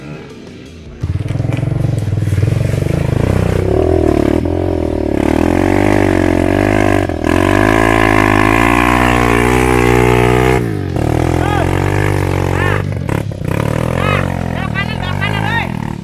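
Motorcycles ride a rough trail, their engines loud and close, revving and falling in pitch with clattering bumps, while voices shout over them.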